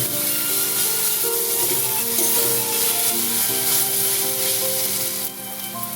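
Ground garlic, green chilli and cumin powder frying loudly in hot oil, a dense continuous sizzle close up, with stirring scrapes throughout and the hiss easing slightly near the end; no talking.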